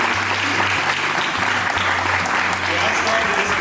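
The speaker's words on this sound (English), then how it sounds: "please raise your hand so everybody can give you a round of applause." Round of applause from the audience at a Kentucky Distillers' Association bourbon celebration, dense sustained clapping throughout with crowd murmur and a low hum beneath.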